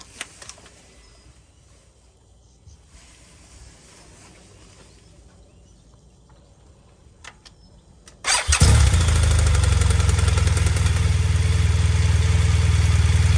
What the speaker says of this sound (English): So what we'll do is fire her up